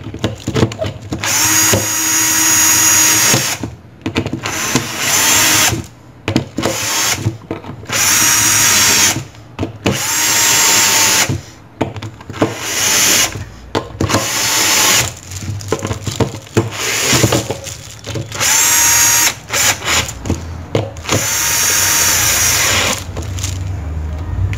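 Power tool running in repeated bursts as it tightens clutch bolts on a Honda Titan motorcycle with a modified 218cc clutch, loud and close with short pauses between each whirring run.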